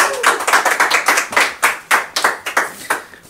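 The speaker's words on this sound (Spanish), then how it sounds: "un aplauso para Gonzalo" A small group claps for a guest on a Chilean-style comedy talk show, a steady run of sharp, fairly close handclaps lasting about three seconds with no talking.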